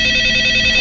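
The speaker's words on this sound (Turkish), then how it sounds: "Bak yine o telefon çalıyor." A telephone rings in a MrBeast horror video game: a steady, loud electronic trill held throughout the short moment, with no voices over it.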